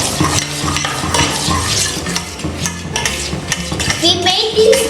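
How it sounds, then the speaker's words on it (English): Eggless wheat cake batter being mixed into a creamy paste in a bowl, with loud, close, rhythmic scraping and stirring strokes and occasional clinks of the utensil against the bowl, and no speech. "so give it a good mix"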